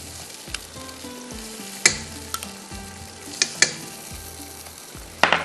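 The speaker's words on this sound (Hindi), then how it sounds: "अब इसको थोड़ा सा मैंने भूनना है।" Tomatoes and yogurt fry in a pot for yakhni pulao, giving a steady close sizzle broken by several sharp spoon knocks and scrapes against the pot.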